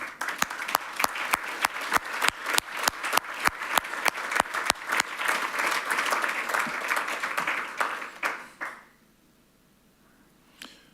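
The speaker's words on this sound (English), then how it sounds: "Donc je vous propose de les applaudir tous chaleureusement." Audience at a conference plenary session on migratory waterbirds applauds warmly, a dense burst of many clapping hands with sharp claps standing out, running steady for about eight seconds before fading into near silence.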